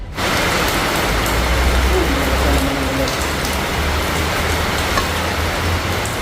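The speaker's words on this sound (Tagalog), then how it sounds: "Lakas ng ulan" Heavy rain pours steadily, a dense continuous hiss of drops on surfaces with no pauses.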